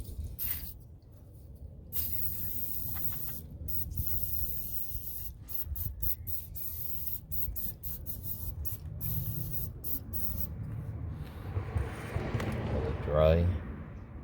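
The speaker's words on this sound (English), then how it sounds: "let's go ahead and spray that off" Bursts of spray hissing on and off in a close, steady series while cleaning an Acura TL VTEC solenoid, with brief pauses between sprays and a rising gurgle near the end.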